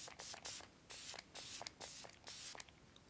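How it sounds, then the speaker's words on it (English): Wanna Wrestle setting spray mists in five or six quick, airy bursts, each a short hiss with a clicking pump between them, close up with no talking. "I'm gonna set all this with the Wanna Wrestle setting spray."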